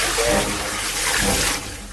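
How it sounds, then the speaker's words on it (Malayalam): Water steeped with butterfly pea flowers is poured in a steady, splashing stream that is close and loud, then eases off near the end. "അപ്പോ ശംഖുപുഷ്പം ഇട്ട വെള്ളം ഒഴിക്കാനോ?"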